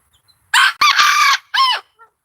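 A rooster crows loudly and close by, one long call broken by a brief gap and then a shorter final burst, with quiet surroundings and no talking.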